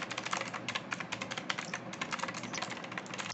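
Fast, continuous typing on a Techno Zone mechanical gaming keyboard gives dense, clicky keystrokes close to the mic, with no talk.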